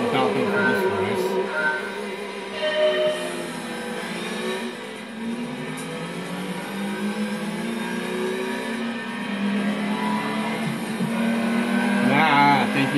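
Racing car engine from the Gran Turismo 2 video game during a Station Wagon Cup race, droning steadily and shifting pitch through the whole stretch as the car accelerates and brakes, loud and continuous.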